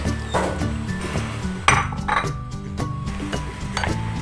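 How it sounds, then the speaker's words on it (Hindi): Fresh fruit being stirred and tossed together in a bowl for creamy fruit chaat, with soft clinks and scrapes of a utensil against the dish in an irregular rhythm, close and moderately loud, no talking. "ये तमाम फ्रूट मिक्स कर रही हूँ।"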